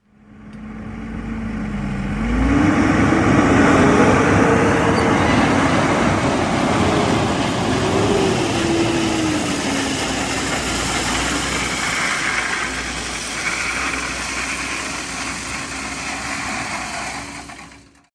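A dump truck unloads and spreads a load of gravel over a pond dam during roadway repair, its diesel engine rising to a sustained heavy roar with shifting pitch, steady and close, tailing off at the end with no talk.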